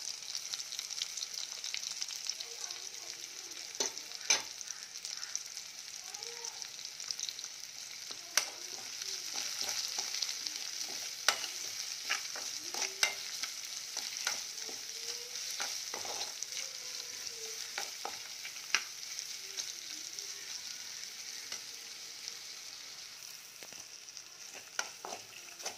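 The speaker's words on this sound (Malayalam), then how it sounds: "ഉള്ളി മൂത്തിട്ടുണ്ട്, അതിലേക്ക് ചതച്ച മുളക് ഇട്ട് കൊടുക്കാം." Crushed chili sizzles in hot oil with browned crushed shallots while a spoon stirs the pan, a steady close frying hiss broken by soft scraping clicks, with no talking.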